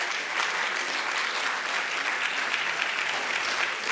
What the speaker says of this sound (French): mais on peut l'applaudir